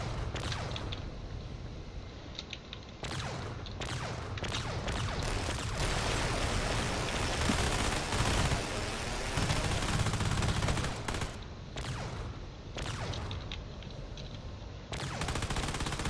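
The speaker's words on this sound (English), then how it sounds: "Now the closer range weapons are starting to respond." Space battle weapons firing in a drone wars video game, with rapid automatic bursts and shots chattering almost nonstop, a few short pauses between volleys, loud and close with occasional booms and whooshes mixed in.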